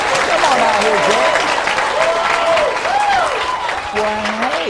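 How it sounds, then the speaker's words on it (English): Applause and cheering from a game show studio audience welcoming a contestant, sustained throughout, with a host's voice speaking over it. "How about a big round of applause, if you would, please, and a welcome for Jan Mulcair"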